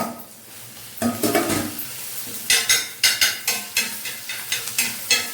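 Ginger and garlic sautéing in oil for Thoothukudi-style shredded chicken, with a soft sizzle under a run of sharp, rhythmic scrapes and clinks of a spoon stirring the pan, close and with no voices.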